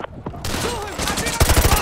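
Automatic gunfire from Call of Duty: Modern Warfare 2 Remastered, heard as dense, loud, rapid bursts that start after a brief quieter moment and keep rattling close by.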